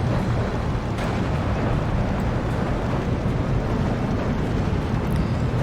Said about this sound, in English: The Panzer IIIL is getting hit, I believe, by the Allied tanks down on the southern approach